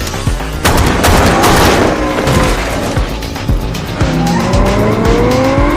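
Tires screech loudly as a car speeds off during a movie action scene, the engine roaring over sustained squealing with rising whines and sharp bangs mixed in, close and intense throughout.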